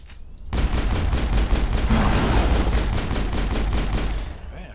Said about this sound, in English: I heard them shoot again